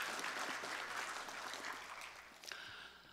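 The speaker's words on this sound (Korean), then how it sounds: "우리 찬양 받으신 주님께 영광의 박수" A church congregation claps during a Korean Sunday worship service, a dense, faint wash of applause heard from a distance that slowly tapers off, with a brief voice near the end.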